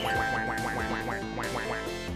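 Rapid, evenly spaced quacks from a duck in Duck Game, about a dozen in quick succession, loud and close, with no talk.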